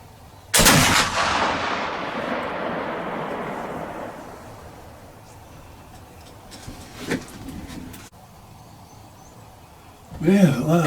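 One loud, near report from a Kibler Woodsrunner muzzleloader rifle rolls out into a long fading rumble, followed by a few faint handling knocks and someone speaking at the end.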